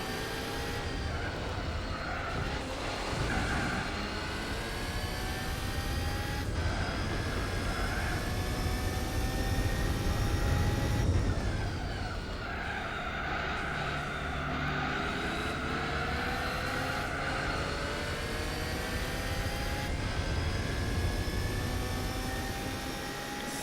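Race car engine in Gran Turismo 4 drones continuously and shifts in pitch as it accelerates and changes gear, a steady loud whine with no break.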